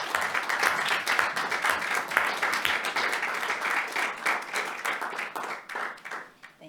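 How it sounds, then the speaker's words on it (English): Applause fills a county board of supervisors meeting room after a proclamation, a dense crowd of hands clapping steadily, a few sharper nearby claps standing out before it thins and fades at the end. "You can clap anytime you want"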